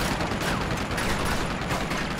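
Machine gun fire in the video game Uncharted 2, a dense, continuous rattle of rapid gunshots with mechanical clatter, loud and sustained across the whole moment.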